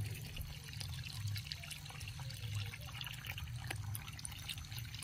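Water pours in a steady, quiet stream with faint drips and splashes, continuous and close, with no voices.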